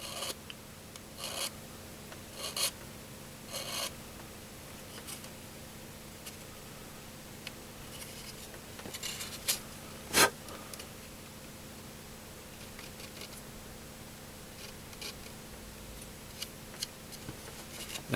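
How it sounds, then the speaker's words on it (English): Intermittent raspy scraping strokes of a file on a plastic model car fender, close and quiet, spaced irregularly over a faint hum. "I'm using a file rather than a sanding stick"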